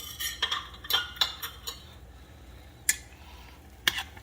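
Buldak Habanero Lime instant noodles being mixed around in a bowl give off a series of light utensil clinks and scrapes, several quick taps early on, then sparse louder clicks near the end.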